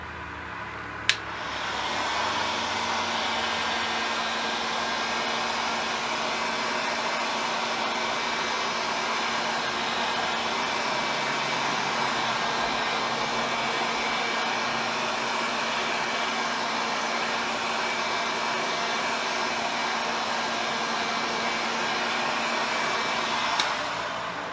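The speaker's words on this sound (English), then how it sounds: "I'm going to use my heat gun real fast" A steady, loud blowing roar of a heat gun runs continuously for the whole stretch, with a faint high whine on top and no talking.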